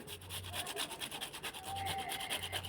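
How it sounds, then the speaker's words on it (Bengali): Ripe mangoes are rubbed firmly by hand, giving a steady, close scrubbing and rasping sound that swells and fades in repeated strokes with no talking. "চলো গল্প করতে করতে আমগুলো ভালো মতো ঘষে নিই"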